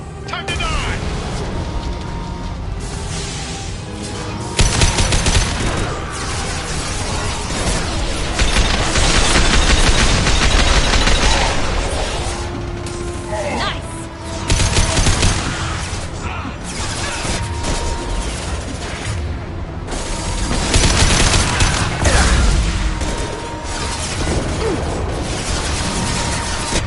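Firefight in the video game Mass Effect 2, with sustained bursts of gunfire, booms and crashing impacts over a steady combat din, with voices speaking at points.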